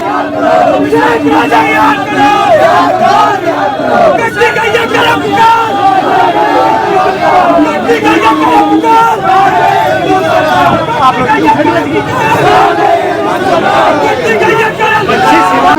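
Hindu activists protest outside the BJP office in Patna, a dense crowd of shouting voices and chanting babble holding steady and loud throughout, close and continuous.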